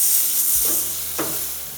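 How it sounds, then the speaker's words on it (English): BBQ pork belly steaks glazed in juices hit a hot grill with a burst of sizzling and crackling that swells briefly, then settles into a steady fry hiss, close and fairly loud. "Going to get that little sizzle."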